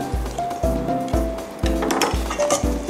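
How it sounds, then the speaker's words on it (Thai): Seasonings are mixed by hand into fried pork larb with lime, fish sauce and sliced vegetables, giving repeated soft thumps about twice a second with light clinks and a faint sizzle. "คุณผู้ชมก็ต้องคลุกเคล้าเครื่องปรุงทั้งหมดนะคะให้ผสมเข้ากันเป็นเนื้อเดียวเลยนะคะ"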